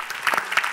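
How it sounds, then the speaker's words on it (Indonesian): Studio audience applause on an Indonesian dating game show, a dense burst of clapping heard alone for under a second with a few louder swells. "Boleh kita berikan tepuk tangan sekali."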